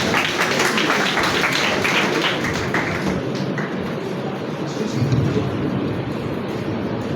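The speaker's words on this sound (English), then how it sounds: "A louder round of applause, please." A school audience at a science and technology event gives a dense, steady round of applause for a team on stage, filling the whole stretch evenly with no talking.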